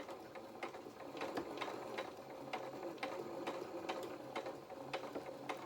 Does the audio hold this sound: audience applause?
no